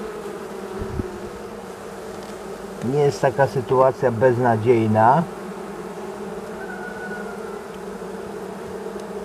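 A continuous drone of honeybees fills the air at an open hive on a morning inspection, with someone talking briefly over the middle of it before the buzzing carries on alone.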